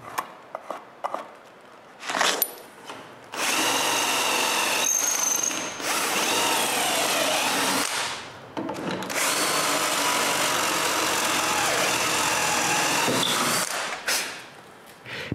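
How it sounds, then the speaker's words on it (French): A power drill bores holes in wood for building swivelling mobile carts, with a couple of long whirring, grinding bursts through the timber separated by short pauses and a few clicks, close and loud. "Maintenant que j'ai tout pour percer mes trous, j'ai juste à les marquer et à les percer."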